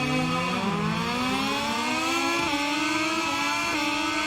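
A Moto2 motorcycle engine revs at the race start in the video game MotoGP 21 at the Australian Grand Prix, a loud continuous whine climbing steadily in pitch with brief dips at each gear shift.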